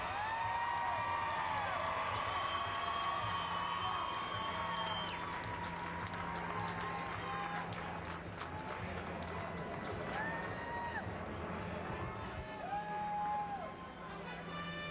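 Spectators at the 2012 US Olympic Marathon Trials cheer and clap as a runner crosses the finish line, a steady crowd roar with whistles, and a voice talks over it throughout.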